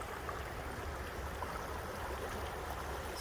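The Yakima River runs full below Reinhardt Park at Mill Pond, a steady broadband rush of flowing water heard close from the bank, continuous and even with no voices.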